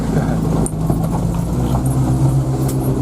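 Car engine idling nearby outdoors, a steady low rumble running throughout with small knocks and clatter on top, no speech.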